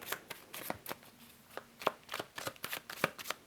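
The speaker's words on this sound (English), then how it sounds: "I'm shuffling your clarifiers" Tarot cards are shuffled by hand at close range, a run of quick, crisp riffling bursts repeating rapidly for several seconds.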